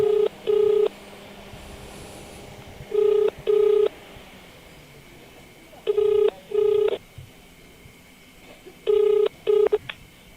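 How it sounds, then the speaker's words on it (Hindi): A phone call placed on speakerphone gives repeated bursts of loud, steady ringback tone, each a pair of short pulses, returning about every three seconds against a low background hum. "देखै छियै जे हमर फोन उठबै छथि कि नहीं"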